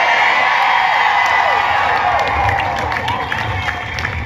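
Crowd at a pro-choice rally cheering and whooping, a sustained roar of voices with scattered shouts and some clapping, loud and continuous throughout.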